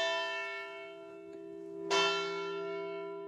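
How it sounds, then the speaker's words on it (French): Church bells ring at a Templar commandery, a sustained resonant tone with a second strike blooming partway through, each hum decaying slowly with no voices. "les cloches semblent toujours rythmer la journée des Templiers au sein de la commanderie"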